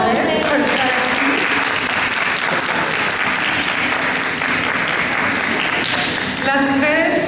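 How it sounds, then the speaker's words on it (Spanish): Loud, sustained clapping from a crowd at a family communication talk fills the room for several seconds, with voices mixed in underneath. "Le voy a pedir a las mujeres que les demos un aplauso a los hombres por estar aquí."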